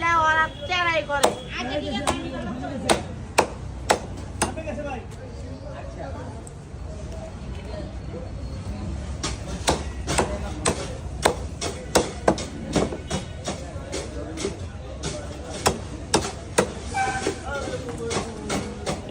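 A knife chops through a large katla fish, giving repeated sharp, close thuds with an uneven rhythm while people talk throughout.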